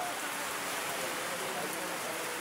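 Heavy rain falls steadily at a house, a dense, even hiss of drops on surfaces that holds at a constant level throughout, with no talk.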